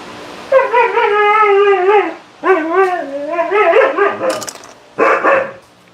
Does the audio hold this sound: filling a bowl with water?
no